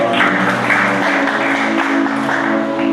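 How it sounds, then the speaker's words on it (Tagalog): A church congregation claps together in praise during a worship service, a brief wash of applause blended with a sustained musical tone underneath. "Isang malakas sa palakpak para sa Panginoon."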